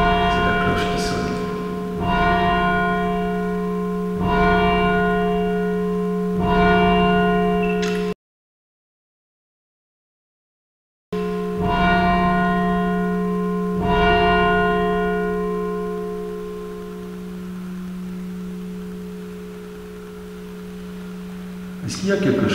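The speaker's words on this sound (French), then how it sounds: "C'est la cloche qui sonne." A church bell tolls inside a church, a series of resonant strikes with long ringing decays; the sound cuts out briefly, then the strikes resume and fade away.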